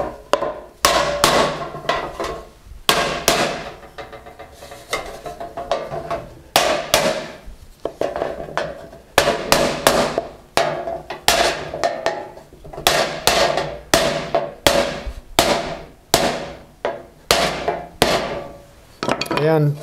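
A hammer flattening a solid copper sheet panel for repoussé work, with dozens of sharp, ringing metallic blows in irregular bursts and short pauses, close and loud, with no talking.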